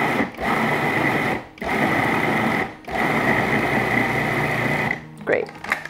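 A food processor pulses a protein bar mixture in four short bursts of high, buzzing motor whir separated by brief silences, close and loud, followed by a faint clatter.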